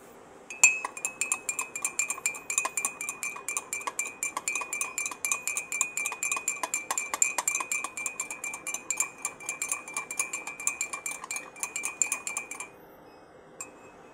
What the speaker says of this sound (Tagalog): Haluin na natin siya.